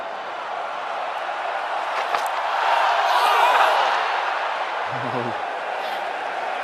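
Crowd noise at an India vs England cricket test match, a partial crowd making a lot of noise, heard as a steady distant roar that swells briefly in the middle, with a short thud near the end.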